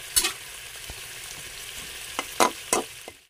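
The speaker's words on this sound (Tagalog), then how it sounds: "Lagyan na natin ang gata sa pak guys" Coconut milk hits a hot pan on a home stove, a steady close sizzle with several sharp bursts of louder frying hiss as the liquid spatters and is stirred.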